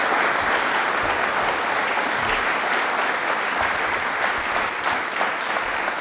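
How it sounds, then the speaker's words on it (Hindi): A studio audience on a Rajasthan television quiz show breaks into sustained, loud applause, a dense and even roar of clapping with no pause throughout. "भारत की इस पहल के लिए जोरों से शोरों से ताली बजा दीजिए एक बार"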